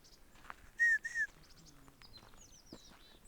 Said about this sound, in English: Here's that bird again.